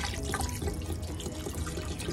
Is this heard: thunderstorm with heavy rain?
no